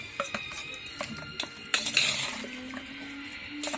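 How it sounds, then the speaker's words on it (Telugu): Chicken 65 pieces are stirred and tossed in a pan, with sharp intermittent clinks of a utensil against metal and a brief scraping rush, close and moderately loud with no talk. "రౌండ్గా తిప్పుకుంటా రోల్ కిందికి పైకి కలుపుతూ ఉంటే అన్ని పీసెస్ కింద మీద అయ్యి"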